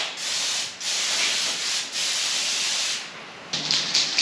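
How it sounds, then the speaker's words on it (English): A car body's edges are hand-sanded before priming, giving steady rasping back-and-forth strokes in long, close, even passes, with short pauses between them and lighter scuffs at the end. "sanding down those edges to make it porous"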